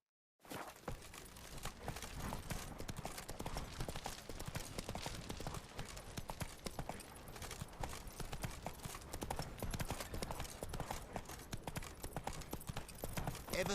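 Roach, Geralt's horse in The Witcher 3: Wild Hunt, trots with steady, continuous clip-clop hoofbeats that run loud and close for the whole stretch, with no voices over them.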